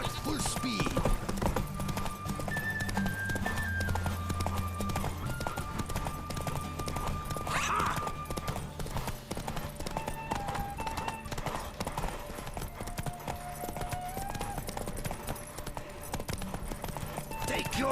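A horse gallops in The Witcher 3 during a race, its rhythmic hoof clip-clops running steadily under musical tones and voiced dialogue, with a brief snort or whinny midway.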